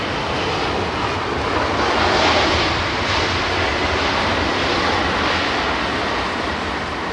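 A Boeing 737 jet at a windy London Heathrow Airport fills the air with a loud, sustained engine roar mixed with gusty wind rush, and no one speaks.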